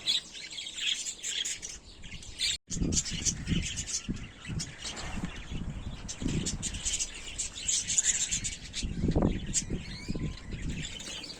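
Cockatiels chirp steadily in an outdoor aviary, a dense, continuous mix of bright calls and tweets from several birds nearby, with a voice talking now and then underneath.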